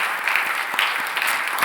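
Congregation clapping during a Sunday church worship service, a steady crowded patter of many hands sustained throughout at moderate loudness, with no voices over it.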